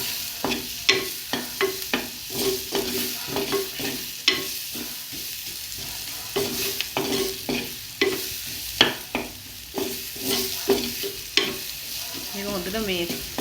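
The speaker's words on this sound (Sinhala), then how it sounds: "හොඳට මේ තෙලේ බැදෙන්න ඕනේ." Lentils fry in hot oil for a dhal curry made without coconut milk, a steady sizzle broken by repeated scraping stirs of a spoon against the pan, close and fairly loud, with no voice.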